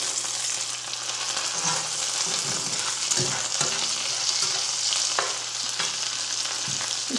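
Walleye fish frying in a pan with Worcestershire and hot sauce, a steady bright sizzle with occasional spatter pops and light stirring clicks, close and alone.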